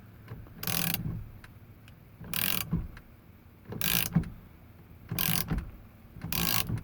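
A Grant quick release steering wheel hub in a 280Z is tightened in five separate bursts of close, rasping ratchet clicks, with short quiet gaps between them.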